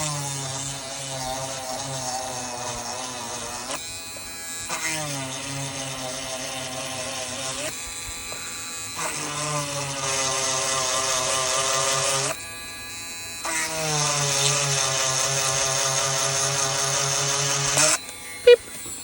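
A power drill cuts a hole in a thin resin shark mould, whining in long steady bursts with brief pauses between them, loud and close.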